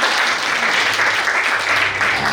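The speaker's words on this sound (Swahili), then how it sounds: "Tumshangilie Yesu kwa makofi mengi tena." A church congregation breaks into loud, dense applause, steady sustained clapping filling the room with no pauses.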